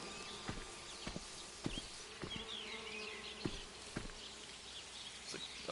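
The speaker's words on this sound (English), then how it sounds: "There's like a bee swarm somewhere." Bee swarm buzzing in the Viewfinder video game, a steady insect drone running under sharp, repeated footstep-like thumps, with no talk.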